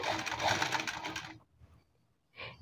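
A sewing machine stitches blouse fabric in a brief steady run of close mechanical whirring, stops into near silence, then gives a short second burst.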